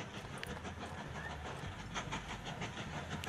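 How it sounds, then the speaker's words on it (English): A game train in Mashinky pulls into a station with a faint, steady rolling rumble and hiss, plus light clicks scattered through it. "There's a train pulling into Durham Station right now"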